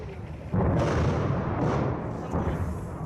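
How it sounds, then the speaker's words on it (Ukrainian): Heavy booms of artillery shelling in a city in Ukraine in September 2014, one loud blast followed by rumbling and another deep thud. "Кілька годин у місті не вщухають постріли та вибухи снарядів."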